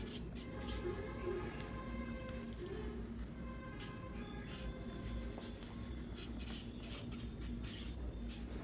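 Marker or chalk writing on a board during a Class 10 polynomials maths lesson, faint scratchy strokes continuing under a steady room hum, with a voice talking intermittently.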